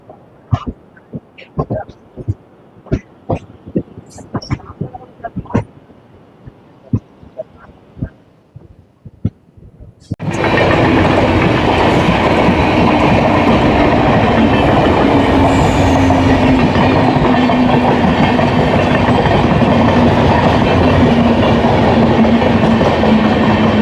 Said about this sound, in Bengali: আর এই ট্রেনটি কিন্তু নটা দশে বর্ধমান থেকে রামপুরহাটের জন্য উদ্দেশ্য রওনা দিল